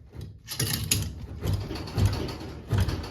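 Ratchet tightening suspension parts on a 1.8T Mk1 VW Rabbit pickup, with close, repeated clicking pawl strokes in short bursts and brief pauses between pulls, no talking.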